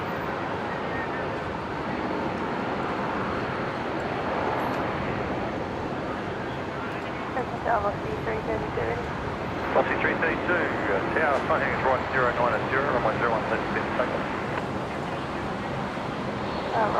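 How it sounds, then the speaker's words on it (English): An Alliance Airlines Fokker in special livery taxiing over from the hangar at Brisbane International Airport, a steady low jet rumble and whine in the distance, with wind noise and occasional people talking over it. "One of the special liveried Alliance Fokkers coming over from the hangar"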